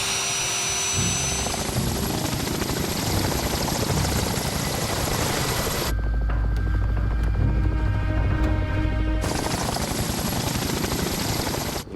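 A helicopter approaching a dinosaur fossil dig site, its loud steady rotor thump and engine whine filling the air continuously, with a brief shift in tone partway through before the full roar returns.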